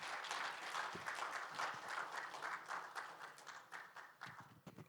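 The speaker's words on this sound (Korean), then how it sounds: "여러분 따뜻한 박수로 맞아주십시오" At a founding convention, a hall audience welcomes a speaker with warm applause that rises briefly and then thins into scattered, fading claps.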